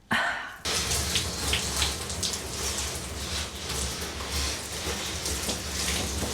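Tap water runs steadily to shower a houseplant, a continuous hissing splatter after a brief louder burst at the start, with no talking.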